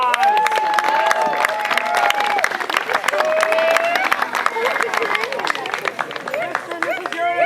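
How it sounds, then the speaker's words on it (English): An outdoor campfire-bowl audience claps and cheers for ranger staff being introduced, with continuous applause mixed with crowd chatter, whistles and shouts. "give them a big round of applause."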